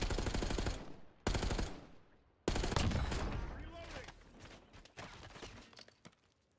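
Ames rifle gunfire in a first-person shooter video game: loud, rapid automatic bursts separated by short pauses, with trailing impact and game effects between them.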